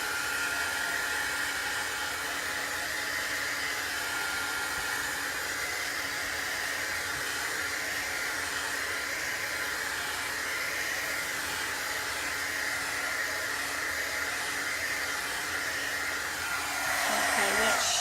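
A hair dryer dries a chalk transfer on a craft project, blowing as a loud, steady, close whoosh for the whole stretch with no talking, shifting slightly as it is moved near the end.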